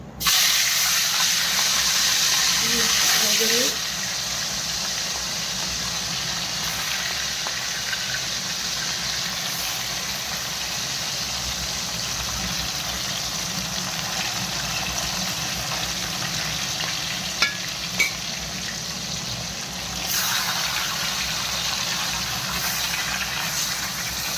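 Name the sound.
fried fish pieces added to the pan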